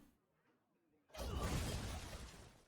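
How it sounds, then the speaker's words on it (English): A Shield Shatter spell breaks apart a whole board in Hearthstone: after a quiet lull, a sudden loud glassy shattering burst erupts and rings on with crackling fragments before slowly fading. "they're going to use Shield Shatter, which gets rid of our entire board"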